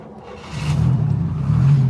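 A 1980 Buick Regal Turbo Sport Coupe with a 3.8-liter draw-through turbocharged V6 fires up, its low rumble swelling after half a second and settling into a steady, throaty idle with a second surge near the end, heard close by with no talking.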